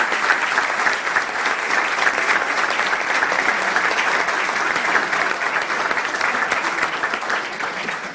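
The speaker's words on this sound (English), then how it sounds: "take a round of applause" An award ceremony audience claps in a sustained, dense burst of applause that holds evenly for several seconds, loud and close, with no voices over it.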